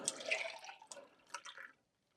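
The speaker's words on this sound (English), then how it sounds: "water going onto a wooden chopping board" Water spilling and dripping onto a wooden chopping board in a home kitchen while cooking lamb tagine, a few quick close splashes and patters that trail off into silence.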